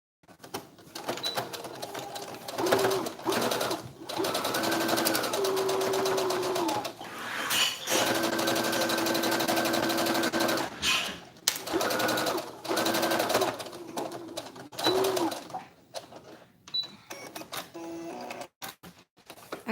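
A domestic sewing machine stitches a fabric face mask in several short bursts of fast, close whirring with pauses between them, while a voice talks quietly between runs.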